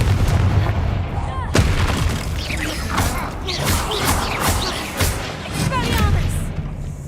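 Confringo fire-blast spells in the Hogwarts Legacy video game, booming explosive bursts over busy game combat noise and effects, with a voice talking over parts of it.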